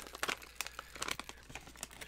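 Plastic blind bag toy packaging from a dollar store crinkles and tears in quick, irregular bursts, close and clear, with no talking.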